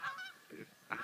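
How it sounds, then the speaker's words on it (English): Geese give three short, nasal honks in quick succession, faint and somewhat distant, outdoors in muddy ground. "the goose, the geese"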